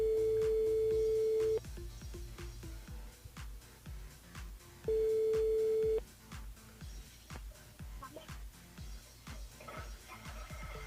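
A telephone ringback tone sounds in two long, loud, screeching bursts separated by a gap, over a background of rhythmic music.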